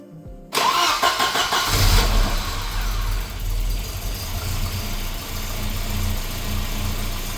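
A Volvo B230 redblock four-cylinder, freshly fitted with a new head gasket and run without belts or cooling, cranks briefly and catches, then settles into a loud, close, steady idle with a rough, slightly uneven rumble.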